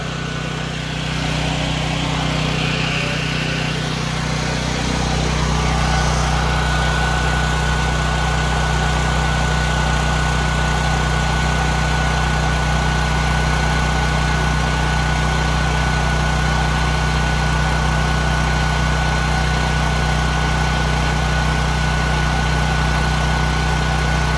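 A Ridgid 6800-watt portable generator runs under load with a heater switched on, its steady loud engine drone and low hum settling after a brief shift in pitch, with no talking.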